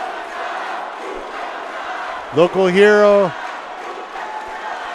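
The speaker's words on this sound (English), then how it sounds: "Crowd cheering" Crowd at a Brazilian jiu-jitsu match cheering and murmuring steadily in the background while a commentator speaks over it, with one loud rising shout from the crowd partway through.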